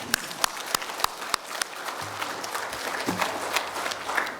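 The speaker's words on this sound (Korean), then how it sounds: "두 분에게 한번 박수 한번 보냅시다" A church congregation claps for an elder and his wife during a Sabbath service, scattered sharp claps early that thicken into steady moderate applause.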